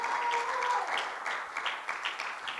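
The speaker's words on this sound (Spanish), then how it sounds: "Démosle un aplauso a Jesús." Congregation applause during a church service, softer clapping from the gathered worshippers with some voices mixed in over it.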